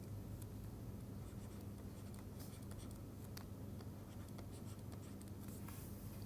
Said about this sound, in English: I'm going to write it here